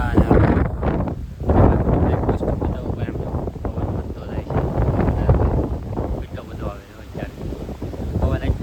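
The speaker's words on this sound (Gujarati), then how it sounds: "કેટલો પવન ઉઠે" Strong wind gusts roaring across the microphone outdoors, a loud, steady rumbling buffet that swells and dips throughout, with people talking underneath.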